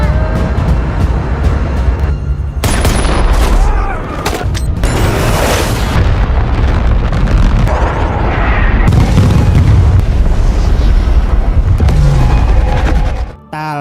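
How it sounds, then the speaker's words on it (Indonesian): Film air strike explosions, loud rolling booms and blasts that repeat over some thirteen seconds with crackling debris and gunfire-like bursts, the heavy low rumble nearly continuous throughout. "serangan udara yang dikirim oleh Kapten Eddie akhirnya tiba"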